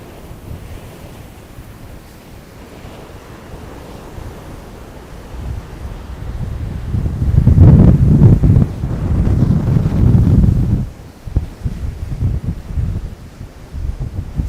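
Strong wind buffeting the microphone on Miami Beach ahead of Hurricane Milton, a low roaring rumble that builds into loud gusts midway and then eases, with surf washing in the background and no talking.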